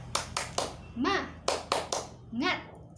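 Children in a classroom performing the tepuk semangat clapping chant before a lesson, crisp bursts of group claps in a steady rhythm alternating with short shouted chant words, all near and fairly loud.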